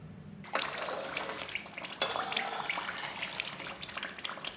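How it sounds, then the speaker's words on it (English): Coconut cream simmers in a pan on the stove as its water cooks off and the oil separates, giving a busy, close bubbling with fine crackles and pops that picks up partway through. "I'm getting a lot more bubbling now."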